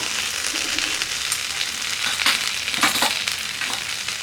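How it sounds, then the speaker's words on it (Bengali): Ginger and a little chili powder fry in a Nutripot while khichdi is being made, a continuous close sizzle broken by a few clinks and scraping stirs, no talking. "এবার দিচ্ছি আদা, তারপরে একটু লঙ্কার গুঁড়ো অল্প দেবো"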